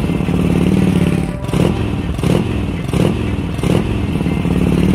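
A motorcycle engine revs loudly and close in a steady idling drone with repeated throttle blips at a regular pace, rattling and clattering underneath, no speech over it.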